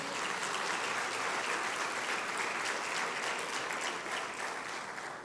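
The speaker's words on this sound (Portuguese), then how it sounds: "Você pode aplaudir o nome de Jesus?" A church congregation applauds in unison, a full, sustained wash of clapping that stays loud and even throughout, with no voices standing out.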